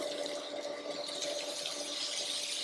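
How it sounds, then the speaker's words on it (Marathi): Water being poured into a pot of mutton curry, a steady continuous splashing stream heard close up with no voices. "ह्याच्यामध्ये आपल्याला अजून पाणी घालायचंय."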